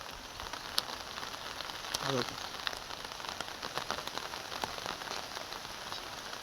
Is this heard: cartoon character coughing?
no